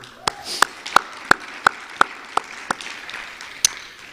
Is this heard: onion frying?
no